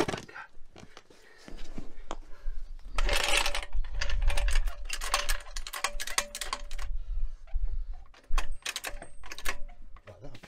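A car jack clicks and ratchets in quick bursts while being raised under a Freelander 2 during a wheel bearing job, close and fairly quiet, with a man muttering between strokes.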